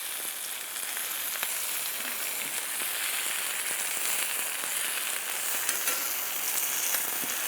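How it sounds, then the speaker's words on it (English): Burger buns toast on a grill beside brisket and bacon, a steady, loud, close hiss of sizzling that runs without a break. "We're toasting the buns here."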